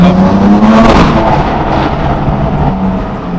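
A straight-piped BMW M4 accelerates hard in second gear, its loud, raspy exhaust note rising in pitch close to the microphone, then settling into a rough, rumbling drone.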